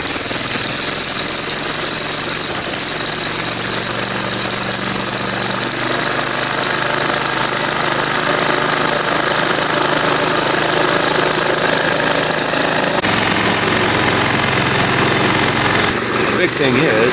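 Snowblower with a pressure primer and electric start, engine running loud and close with a rough, knocking idle and steady mechanical rattle, changing tone briefly near the end.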